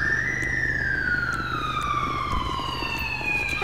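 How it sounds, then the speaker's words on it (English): A police siren in the video game GTA 5 wails steadily, its pitch sliding slowly downward, loud and continuous with no voices. "You can hear the siren."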